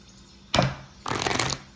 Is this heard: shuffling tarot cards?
yes